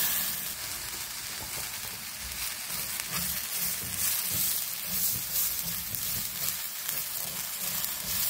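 Rice and vermicelli frying in a pan, giving a steady bright sizzle with faint stirring scrapes throughout, close and continuous without any voices.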